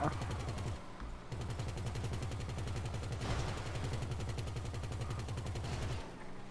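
Rapid gunfire in a video game heist, a dense run of repeated shots with brief gaps, loud and steady throughout, with a voice briefly audible.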